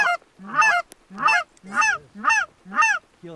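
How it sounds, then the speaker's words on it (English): A cackling goose flying straight and low gives a rapid series of five or six high, yelping honks in steady rhythm, close and loud during a goose hunt. "Single goose straight and low."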